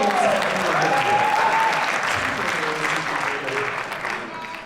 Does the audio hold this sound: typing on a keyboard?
no